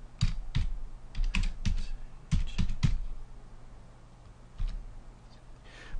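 Keys clatter on a computer keyboard in short bursts of quick taps, with pauses between them and a final few strokes after a lull, close and moderately loud.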